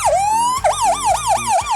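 A beatboxer's voice imitates a police siren in a beatbox workshop, a loud rising wail followed by quick repeated up-and-down yelps, close and alone.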